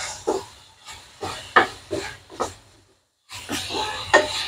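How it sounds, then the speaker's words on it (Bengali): Garlic spicy mushrooms stirred in a pan, a spoon or spatula scraping in a steady rhythm of soft strokes with faint sizzle, a short pause, then more stirring close by. "এখন একটু নেড়ে ছেড়ে দিব।"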